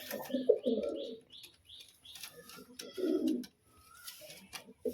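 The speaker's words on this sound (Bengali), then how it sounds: "পুরো গরম পায়রা রয়েছে বিস্কুট পায়রার সাথে একটা সবুজ পায়রা" Pigeons coo in low, throaty bursts, including a green pigeon and a biscuit-coloured pigeon kept as a breeding pair, with soft chirps and a brief wing flutter between the calls, close by.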